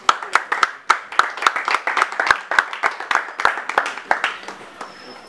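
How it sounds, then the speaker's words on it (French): Audience clapping at a ceremony, a loose patter of individual hand claps with sharp distinct strikes, steady for several seconds then thinning out near the end, close and moderately loud. "On applaudit."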